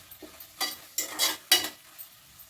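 Onions fry in oil for a prawn curry while being stirred, several short sizzling scrapes and rustles rising and falling in irregular bursts, close and moderately quiet.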